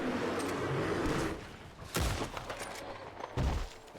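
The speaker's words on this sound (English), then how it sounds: "Heard another gunshot." Gunfire in the RedM Old West roleplay game on the WildRP server, with a couple of loud broadband shots spaced apart over a steady ambient outdoor background, no speech.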